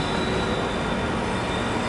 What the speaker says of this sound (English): we have an E-line train pulling into the station